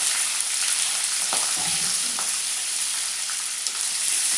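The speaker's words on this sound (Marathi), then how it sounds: "कांदा छान असा लालसर होईपर्यंत परतून घ्यायचा" Onion, green chili and curry leaves fry in a pan alongside peanuts, giving a continuous bright sizzle with occasional faint scrapes of stirring, close and even throughout, with no voices.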